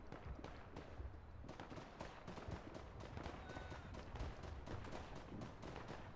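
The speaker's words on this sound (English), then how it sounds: "Madsen machine gun" Madsen machine gun firing in the World War I game Verdun, rapid repeated sharp shots in bursts over a constant din of distant battlefield gunfire, fairly quiet overall.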